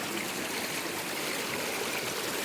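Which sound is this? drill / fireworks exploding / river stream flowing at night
river stream flowing at night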